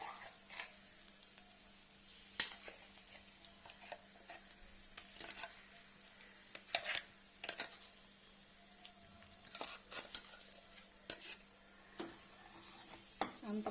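Ground masala paste for brinjal curry is stirred and fried in oil: a soft, steady sizzle runs beneath intermittent scraping strokes and sharper spoon-on-pan clinks, quiet and close, with no talking.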